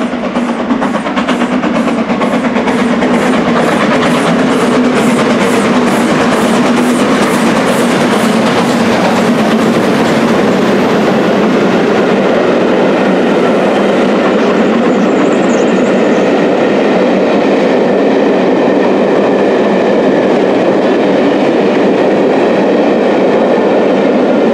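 A GWR Castle steam locomotive roars through Leamington Spa railway station at speed, loud and close, with rhythmic clattering wheels in the first half, then a sustained rushing rumble as it carries on past.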